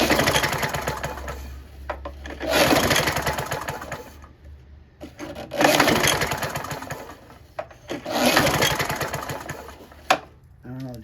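A Briggs 6.5HP engine on a Scotts by John Deere mower is cranked with its recoil starter, giving three or four loud rasping pull bursts of engine turnover separated by short pauses, close by, with someone talking briefly.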